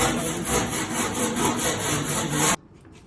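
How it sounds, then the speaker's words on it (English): Close, loud hand sawing with a rapid rasping back-and-forth stroke on metal, making a homemade catalytic converter anti-theft shield for a Toyota Prius, running steadily and then stopping abruptly. "just be careful when you cut metal with your saw"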